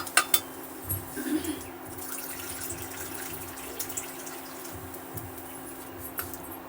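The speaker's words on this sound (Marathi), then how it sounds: "आता मी इथं दीड चमच सॉरी दीड वाटी पाणी टाकणार आहे" Water is poured into a pav bhaji mixture in a pressure cooker, giving a brief splash followed by quieter metallic clinks over a steady low hum.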